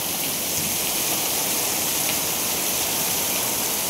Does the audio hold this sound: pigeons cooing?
no